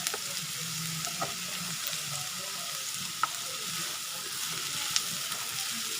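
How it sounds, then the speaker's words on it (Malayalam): Prawn roast masala sautéed with salt in a pan, a steady broad hiss of frying with soft stirring and a few faint ticks of the spoon, continuous and moderately quiet, no talking. "ഇതിലേക്ക് ആവശ്യത്തിനുള്ള ഉപ്പും കൂടെ ചേർത്ത് കൊടുത്തിട്ട് നന്നായിട്ട് വഴറ്റിയെടുക്കാം."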